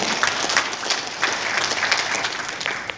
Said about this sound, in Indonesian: Tepuk tangan dulu untuk Gus Zaman.